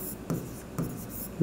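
A pen scratches on paper while entries are written in an accounting journal: a few soft, close strokes in quick succession over a second and a half.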